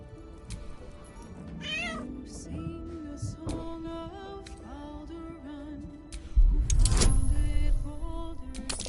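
Cat meowing in the Baldur's Gate III role-playing game, with several drawn-out rising and falling meows over game ambience and music, then a louder rumbling swell near the end.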